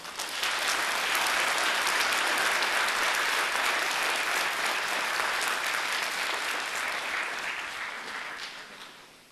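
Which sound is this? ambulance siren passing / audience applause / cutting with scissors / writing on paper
audience applause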